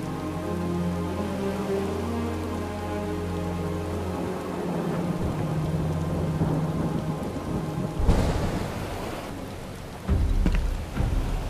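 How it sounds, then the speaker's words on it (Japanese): Heavy rain and thunder in the video game Final Fantasy VII Rebirth: steady dense rainfall over low sustained tones, with sharp thunder cracks rumbling near the end, no speech. "すごい雨だな。"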